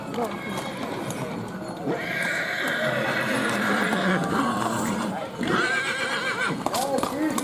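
Horses neigh and whinny while hooves clip-clop over pavement during a horse-drawn pilgrimage procession to Marija Bistrica, with a crowd talking throughout and animal calls rising above the chatter.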